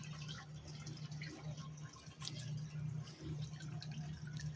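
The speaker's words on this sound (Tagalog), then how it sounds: "Tumutulo-tulo lang." Water drips and trickles in a DIY NFT hydroponic growing system, heard as faint, irregular drops over a low, steady hum.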